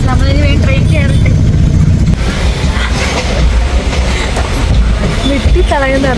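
A passenger sleeper train on a night journey near Thrissur rumbles loudly and steadily on its rails, with rattling carriage noise throughout and people talking over it.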